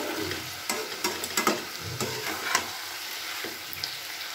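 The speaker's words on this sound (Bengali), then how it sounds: "কিছুটা টমেটো দিয়ে দিলাম, দিয়ে একটু নাড়াচাড়া করে নেবো" Fish masala with tomato being stirred in a pan for amudi fish chorchori, steady close sizzle broken by scraping spatula strokes and soft knocks, no voices.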